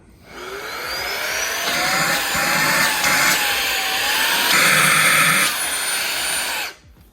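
A Fanttik V8 Mate handheld vacuum cleaner runs loud and close with a steady whining motor, its pitch rising as it spins up and shifting with the mode change, then cutting off abruptly at the end.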